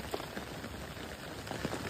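Rain falls by a pond among leaning trees, a constant hissing patter with a few slightly louder drops, steady throughout and without voices.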